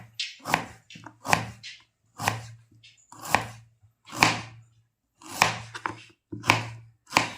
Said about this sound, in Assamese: পিঁয়াজখিনি মই কাটি লৈছোঁ মিহি মিহিকৈ